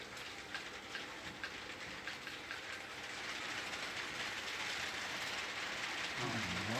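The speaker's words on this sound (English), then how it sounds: "Oh, nice train." A model train runs along a club model railway layout in Taupo, giving a steady low rumble and faint rhythmic clicking of wheels on track that continues throughout, growing slightly louder toward the end, with no talk.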